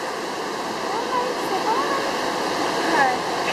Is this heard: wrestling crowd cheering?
no